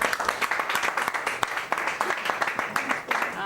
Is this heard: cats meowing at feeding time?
no